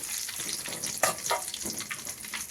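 Curry leaves fry in hot oil for black pepper rasam, a close, continuous sizzle and crackle with a few brighter spits and stirring noises.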